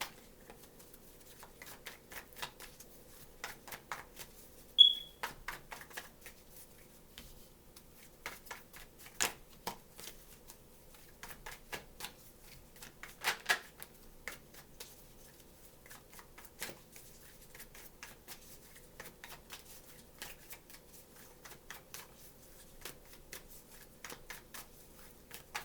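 Cards are shuffled repeatedly in a quiet room, soft riffling bursts coming in irregular clusters with pauses between, faint and close with no talk.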